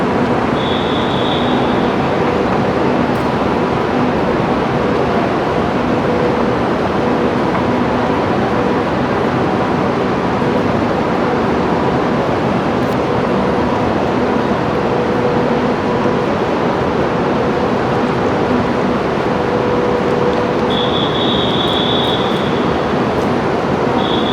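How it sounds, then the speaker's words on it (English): Steady rumbling roar of a train pulling into a station, a continuous loud mechanical drone with faint high squeals from the wheels near the start and end. "That's the train just arriving."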